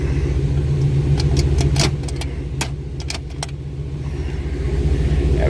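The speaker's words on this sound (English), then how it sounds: "Hear how smooth this car runs too, and nothing crazy for exhaust." Close, steady idle of a 1956 Oldsmobile 88 engine with a smooth low rumble, joined by a few light metallic jingles and clicks partway through.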